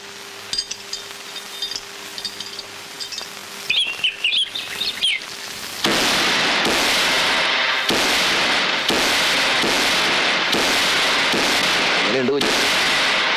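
A rapid barrage of firecrackers bursts loudly and continuously, crackling and popping after a quieter stretch of scattered chirps and brief sounds.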